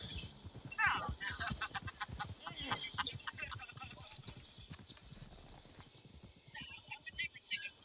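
Horse hooves clip-clop in a steady rhythm in a PS4 video game, a run of quick, crisp hoofbeats heard under ongoing talk.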